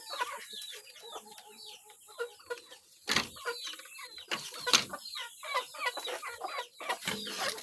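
Chickens cluck repeatedly in short, overlapping bursts, with sharper squawks breaking in now and then; a busy, close flock with no talking.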